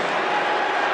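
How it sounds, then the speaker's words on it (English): A basketball arena crowd at an all-star game sends up a loud, sustained roar of cheering, dense and unbroken. "Listen to the crowd now."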